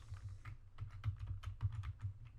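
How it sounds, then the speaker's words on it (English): Typing on a computer keyboard, a quick run of soft close key clicks in an uneven rhythm, fairly faint and alone, no speech. "You're gonna hear my keyboard again."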